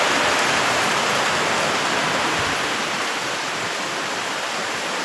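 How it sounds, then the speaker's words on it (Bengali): Steady heavy afternoon rain pouring outdoors near a balcony, a dense even hiss that fills the whole stretch without pause or voices. "বিকালে বৃষ্টি করছে"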